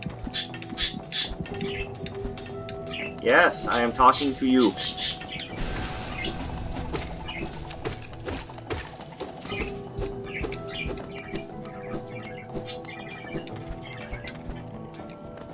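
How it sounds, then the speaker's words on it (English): Upset birds in Hollow Knight call out in a flurry of squawks and chirps with fluttering wing sounds, loudest early on and then fading into quieter scattered calls beneath a speaking voice. "Hello, upset birds."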